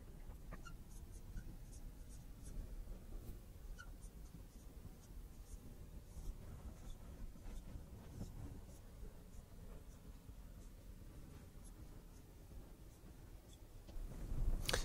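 A pen scratches steadily and faintly on paper, close up and continuous, as a truth table is written out by hand in a quiet room.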